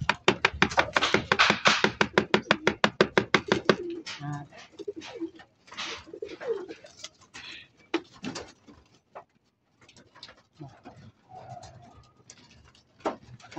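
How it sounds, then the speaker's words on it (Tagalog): Pigeons being fed sorghum coo in a fast, rhythmic run of pulses, followed by scattered softer calls, pecking and rustling at close range. "tawagin lang natin mga kaibon para makatuka na yung ating mga panglaban"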